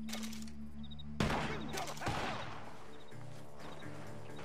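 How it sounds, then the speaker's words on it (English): A burst of gunfire from a barn in Red Dead Redemption 2, a sharp volley of overlapping shots that kicks in partway through and trails into a lingering rumble over the game's background sound. "The gunshots are coming from that barn!"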